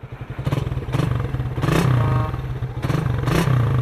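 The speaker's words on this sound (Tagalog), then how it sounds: "Tingnan niyo yung ano niya, yung tunog ng engine niya." A Suzuki Raider 150 carburetor motorcycle engine runs close up with a steady, rapid putter, rising in a few brief revs amid a light mechanical clatter, with no talking.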